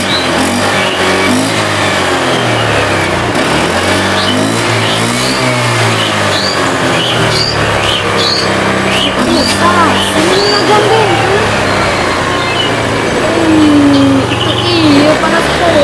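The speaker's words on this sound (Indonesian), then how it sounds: "nagandeng kung tara gerung-gerung motor" A motorcycle engine revs loudly and continuously nearby, the pitch rising and falling as the throttle opens, with faint voices underneath.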